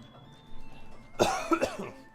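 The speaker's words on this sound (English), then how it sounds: "Had to cough." A person coughs a few times in quick succession, close to the microphone, a short rough burst in an otherwise quiet room.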